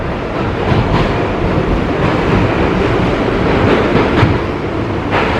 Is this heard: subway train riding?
yes